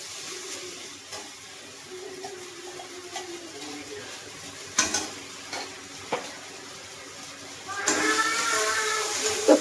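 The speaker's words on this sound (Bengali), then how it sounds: "তো ভালো করে আমি মশলাটা কষিয়ে নেব।" Spice paste with ginger-garlic paste frying in oil and being stirred: a low, steady sizzle with a few faint spoon taps, then a louder burst of hissing sizzle near the end.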